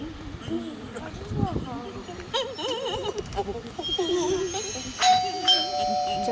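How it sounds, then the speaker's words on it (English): A doorbell chimes at a house, its bright tones sounding around the middle and again near the end, while people talk loudly throughout. "There goes that stupid bell again."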